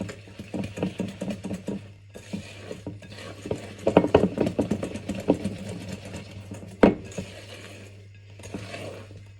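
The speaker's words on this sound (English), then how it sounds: "Well, it is loosening up, so maybe I do need to whisk it a bit more first before I add the flour." A whisk beating a thick cake batter in a bowl during home baking, rapid rhythmic scraping and clattering strokes up close, with a sharp knock near the end and no talking.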